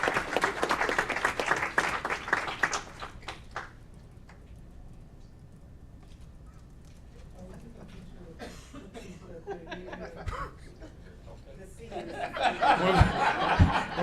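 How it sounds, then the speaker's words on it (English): Audience applause for an award recipient at a city council meeting, a loud burst of clapping that fades into quiet murmurs and chuckles, then swells again with renewed clapping near the end. "Let's give Jose a round of applause."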